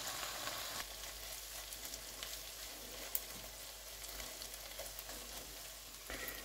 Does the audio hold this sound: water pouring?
no